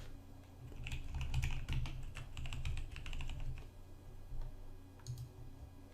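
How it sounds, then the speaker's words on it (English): Someone types a username and password on a computer keyboard: a brief flurry of quick, close key clicks, then a pause and a couple of final taps, over a low background hum. "enter the username and password that you set during the installation and click Login"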